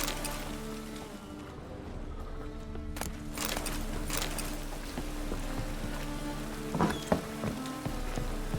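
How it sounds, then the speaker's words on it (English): Rain falling in The Witcher 3, a steady, moderately loud hiss of rain with occasional sharper patters and thuds layered on top, no talking. "And it's raining again."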